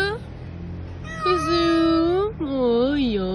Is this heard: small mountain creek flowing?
no